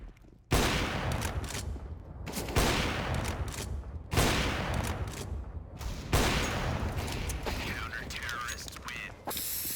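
Counter-Strike: Global Offensive gunfire rings out in several sharp bursts, four or five loud shot clusters spaced every couple of seconds with ringing mechanical decay between them, with no voice over them.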